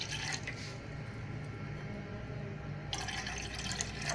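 A steady, continuous stream of water, about one and a half glasses, pours into a frying pan, with a brighter splashing rise near the end and no talking.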